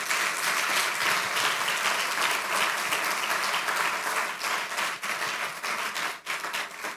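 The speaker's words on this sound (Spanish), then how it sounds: "Un aplauso al Señor si tú lo recibes" A church congregation applauds during a prophetic sermon, dense and loud clapping filling the whole stretch, with some cheering voices mixed into the steady roar.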